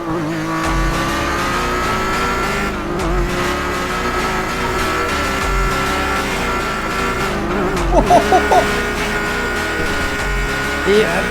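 A car engine hums and revs in a roleplay video game, with steady tonal engine drone, a burst of revving and tire squeal toward the end, and people talking over it.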